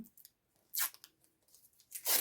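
Masking tape pulled off a roll while backing a homemade passe-partout mat, giving two loud, crackling rips separated by quieter scratchy handling noises.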